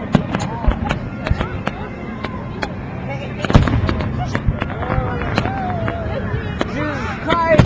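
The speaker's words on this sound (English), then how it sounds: "Look at the fireworks!" Fireworks bursting in a rapid, irregular barrage of sharp cracks and booms with whistling crackle between, loud and close, while people exclaim over them.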